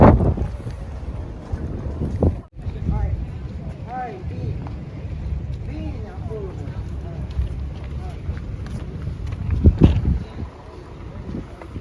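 Steady wind noise rumbles across the microphone throughout in Mykonos, Greece, with a brief dropout and a gust near the end; faint voices and movement sit underneath.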